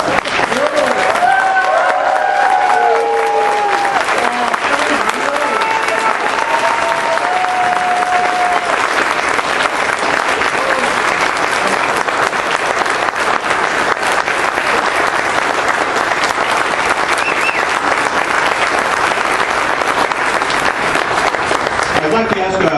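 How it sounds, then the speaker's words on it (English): Convention crowd applauding and cheering a nomination for governor, loud and sustained for the full stretch, with dense clapping and scattered shouts and voices in the hall. "All in favor say aye and stand up and applaud"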